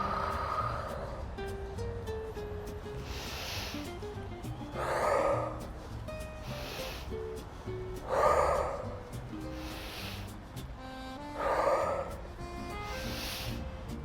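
Deep, paced breaths during a back-strengthening exercise, four slow audible inhale-exhale cycles a few seconds apart, close and clear over a soft tonal backing.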